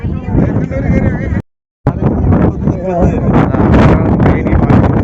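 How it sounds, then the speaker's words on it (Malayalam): Strong wind at a Kodaikanal viewpoint buffets the microphone in loud, continuous roaring gusts, broken by one brief dropout, with a voice faintly underneath. "നല്ല കാറ്റടിക്കുന്നുണ്ട് കേട്ടോ"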